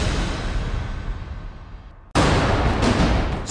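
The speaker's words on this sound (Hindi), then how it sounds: "यहां पर लगातार पाकिस्तान मोर्टार बरसा रहा है।" Mortar shelling at the India-Pakistan border rumbles in a long, decaying blast, and a sudden, louder boom then bursts in and roars on without talk.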